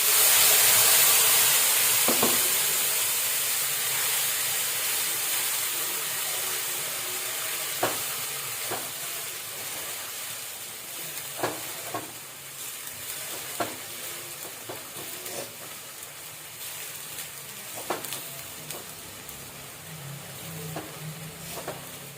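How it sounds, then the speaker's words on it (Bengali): Spice paste of ginger, garlic and onion frying in a pan, a continuous hiss and sizzle with scattered clicks and scrapes of stirring, loud at first and then settling lower. "মশলাটা ভালো করে ফ্রাই করতে হবে।"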